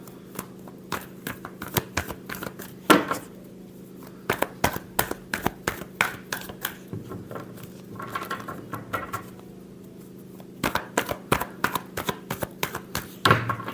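Tarot cards being shuffled by hand for a Leo love reading, a long run of quick crisp riffling bursts and soft taps with short pauses between, close and fairly quiet with no talking.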